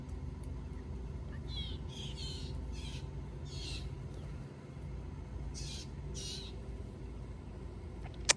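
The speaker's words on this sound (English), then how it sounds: "Do you hear the blue jays talking to me?" Several short, harsh blue jay calls ring out in bursts over a steady low rumble of background noise, moderately distant.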